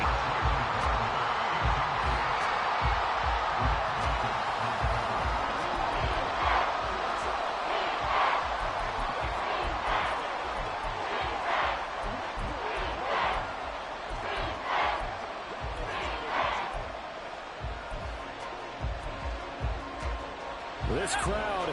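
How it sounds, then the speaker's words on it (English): Stadium crowd roar from a Madden 24 NFL football game, Vikings on 3rd and long, a steady loud wash of cheering and noise swelling throughout with commentators talking over it. "This crowd turning up the decibel level"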